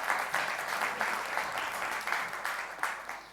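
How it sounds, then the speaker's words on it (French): An audience at a lecture claps for a guest, a steady, moderately loud wash of applause from a room with sharper claps rising and falling, and no voices over it. "Je pense qu'on peut applaudir Jean-Daniel"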